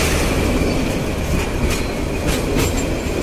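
The Jamuna Express rumbles steadily past the Jamtoli rail gate level crossing in Uttara, with continuous wheel clatter and faint squeals from the passing cars.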